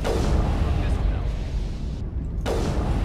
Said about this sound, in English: So incoming missile